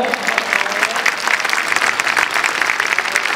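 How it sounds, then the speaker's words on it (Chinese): Warm applause from a large crowd at a memorial ceremony honoring the president, steady dense clapping throughout, loud and close. "再次以热烈掌声感谢总统"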